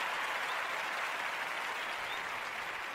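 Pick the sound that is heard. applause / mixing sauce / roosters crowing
applause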